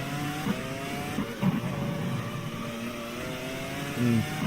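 F1 race car in the GPRO 2002 racing game accelerating at the European round, a steady high engine whine rising in pitch through gear changes, close and continuous.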